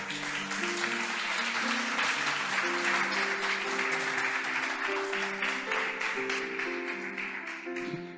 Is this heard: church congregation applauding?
yes